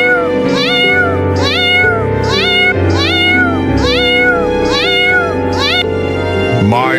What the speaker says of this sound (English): I'm hearing meowing.